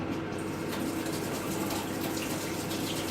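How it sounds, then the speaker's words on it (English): Hot water running steadily from a tap, a constant loud gushing stream with no pauses, heard close up with no talk. "Oh, yeah. Hot water."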